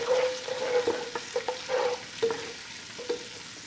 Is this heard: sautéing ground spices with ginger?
yes